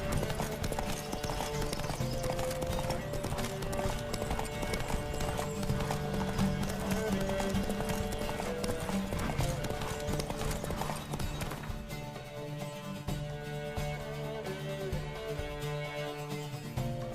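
Steady rhythmic hoofbeats of a galloping horse in the video game The Witcher 3: Wild Hunt run throughout over continuous music, the beat carrying on without a break.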